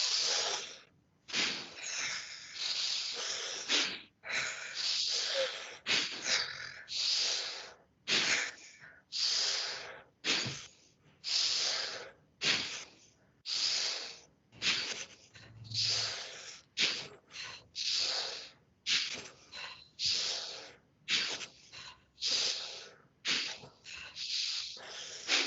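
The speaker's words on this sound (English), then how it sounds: "Forceful breathing, forceful breathe out." Forceful breaths out during a breathing exercise, about two dozen sharp, hissing exhalations in a quick, steady rhythm, close and loud with brief pauses between each.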